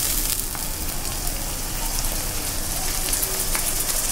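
Ginger garlic paste sizzles in hot oil with onion in a pan, a loud, dense, continuous crackling hiss with scattered sharp pops close by.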